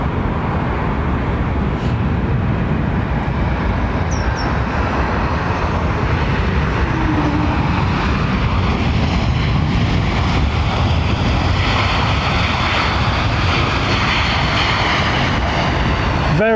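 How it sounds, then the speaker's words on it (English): An airliner lands on the runway at London Heathrow in blustery winds, a loud, continuous roar of engine and rushing air that stays steady throughout, with no voices. "I need to be tracking these aircraft all the way down the runway"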